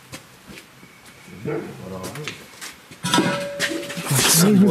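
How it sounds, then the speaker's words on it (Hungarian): A neighbour's dog barks and whimpers nearby in the dark, with short yelps and a louder burst of barking near the end, mixed with people talking. "Szomszéd kutya."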